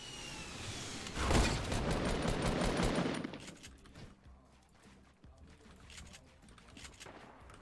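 Video game gunfire in Fortnite crackles in a dense rapid burst, loud for a few seconds before thinning into scattered, fainter shots and game noise.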